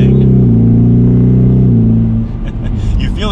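A 2021 Ford Mustang EcoBoost in track mode accelerates with a loud, close engine drone, its pitch stepping through gear changes before dropping off into quieter road rumble and light background noise.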